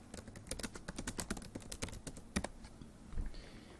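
Quiet, rapid keystrokes on a computer keyboard tap in an irregular run while a document is typed, then slow to a few scattered presses near the end.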